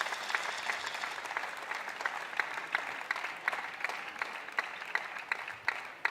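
Spectators at the 2013 European Table Tennis Championships applaud a shot, with crisp, distinct hand claps standing out over a softer wash of clapping, moderately distant and fairly quiet.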